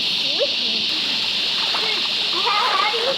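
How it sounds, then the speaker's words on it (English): People splash while swimming in a bush waterhole in burnt-out Australian bushland, light scattered sloshing under a constant hiss, with voices talking over it. "We're gonna have a swim here and cool off."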